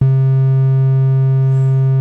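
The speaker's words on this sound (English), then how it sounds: "let's go over to a more unique waveform, the trapezoid, and that sounds like this." Steady trapezoid waveform from a Doepfer A-110-6 thru-zero quadrature VCO, a sustained, unwavering tone rich in harmonics, squarish yet smoother-edged and very precise, held loud and alone for two seconds.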